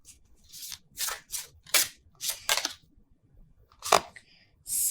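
A series of quick papery riffling and slapping bursts of tarot cards being shuffled, uneven in rhythm, close and fairly quiet with short pauses between.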